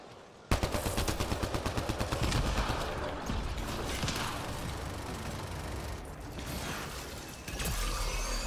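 A laser weapon fires in Mass Effect Andromeda, a video game. It starts with rapid, evenly spaced pulses, then turns into a dense, continuous mechanical buzz of shots, loud and close, with no talking.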